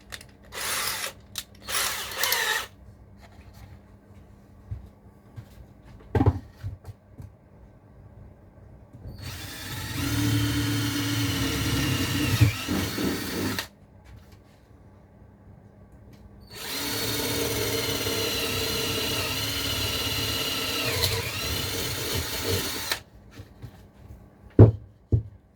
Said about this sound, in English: I'll get my big drill out.